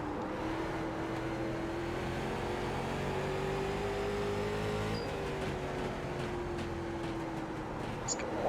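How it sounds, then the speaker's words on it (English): Late model race car engine in the iRacing NASCAR Late Model Series at Langley, droning steadily through a corner with a sustained tone that rises and dips slightly, continuous and close throughout. "Driving the corner a little bit."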